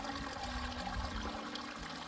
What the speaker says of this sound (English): this is the headwaters to Jack's Creek, so it flows underground